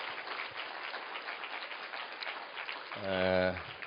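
A church congregation claps for returning mission team members and intercessors, a continuous patter of hands at moderate volume, joined near the end by a brief sung or sustained tonal voice.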